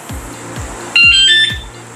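ROCKBROS bicycle alarm horn going off, several quick falling chirps repeating in a steady rhythm and joined midway by a loud, bright electronic beeping tone at close range.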